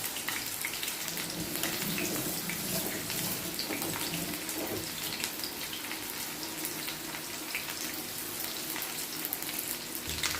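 Bacon and chicken fry in a pan with a dense, continuous crackling sizzle, close and steady throughout, with no voices.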